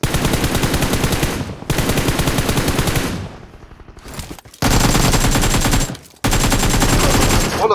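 Rapid automatic gunfire from the mobile battle-royale game PUBG Mobile, loud and close, in long sustained bursts broken by short pauses, with a quieter gap in the middle.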